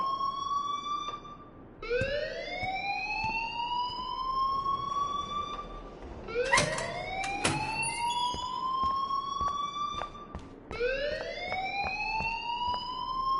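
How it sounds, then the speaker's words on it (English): A wailing alarm siren in the Life is Strange video game rises repeatedly in long sweeping cycles, loud and continuous, with the setting's background ambience underneath. "please turn off that alarm since that's your job"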